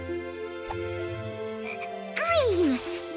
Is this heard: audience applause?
no